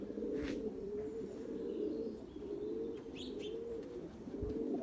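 Young pigeons coo in low, soft rolling murmurs that run almost continuously, with a few faint chirps and light rustles over the top, close and quiet, with no voices.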